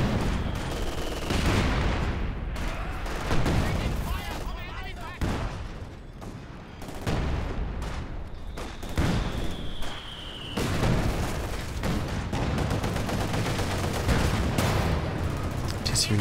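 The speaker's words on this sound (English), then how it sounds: "And returning fire with this barrage of his own." An artillery and gunfire barrage in the Company of Heroes 2 real-time strategy game, with dense overlapping shots and booms rolling continuously at a loud level under a commentator's steady voice.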